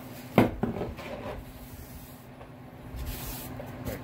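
A wooden axe handle being smoothed by hand gives soft, steady rubbing and scraping strokes, with a couple of sharper knocks near the start. The sound stays close and fairly quiet, with no talking.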